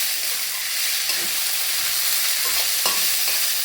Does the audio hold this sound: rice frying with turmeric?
yes